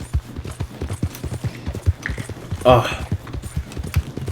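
Horse hooves clip-clop in a steady, rapid rhythm in Red Dead Redemption 2, close and clear, while someone speaks briefly over the galloping.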